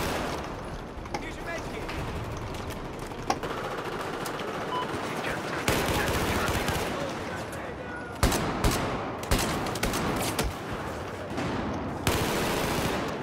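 Light machine gun fire in the video game Battlefield 4 rattles in long sustained bursts broken by brief pauses, loud and close, mixed with explosions and game ambience.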